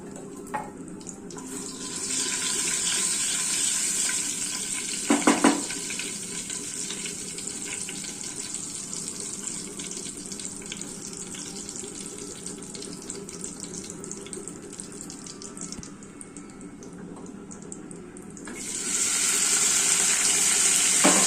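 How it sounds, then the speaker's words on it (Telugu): Onions frying in a pan after mustard seeds, cumin and asafoetida: a loud, steady hiss and sizzle runs throughout, briefly broken by a clatter and a short quieter stretch, then swelling again near the end; no talking. "ఉల్లిగడ్డ వేసుకుని ఇప్పుడు వేయించుకోవాలండి"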